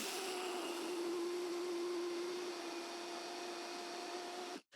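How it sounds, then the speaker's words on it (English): A Vitamix blender grinds whole grain into fine flour, a steady loud motor whine with a constant pitch that holds for nearly five seconds before cutting off abruptly at the end. "I'm going to grind this down to as fine a flour as I can achieve using my Vitamix."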